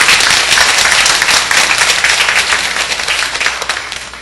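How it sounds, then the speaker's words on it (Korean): Loud, dense applause from a large church congregation during a service fills the room, steady throughout and easing off slightly toward the end. "우리 영광의 박수 한번 해주세요"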